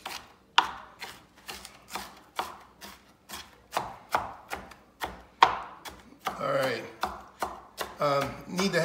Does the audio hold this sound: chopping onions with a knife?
yes